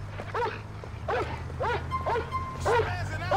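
Police K9 dog in the video game GTA 4 gives a string of sharp yelping barks, about five bursts spaced roughly half a second apart, close and loud over a steady low engine-like drone.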